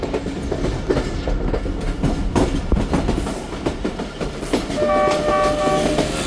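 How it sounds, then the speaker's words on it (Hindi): A Khyber Mail passenger train comes out of a tunnel, its horn sounding in a steady tone near the end over continuous loud rumbling and wheel clatter, heard close from aboard the train. "निकल आई ट्रेन।"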